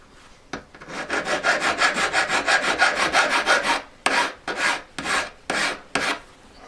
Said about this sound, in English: So I'll literally just hold it on my peg and start filing away that edge.